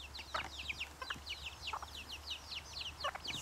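A German bush chicken chick, raised alone, peeping nearby: rapid, high, repeated peeps that run almost without a break over a faint low hum.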